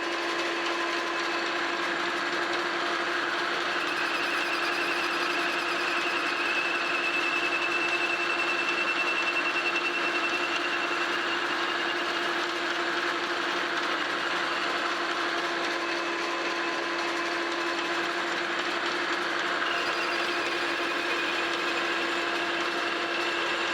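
A Monarch 10EE metal lathe turns a thin metal alignment pin with light cuts, giving a steady, continuous mechanical whine and hum that stays even and unbroken throughout.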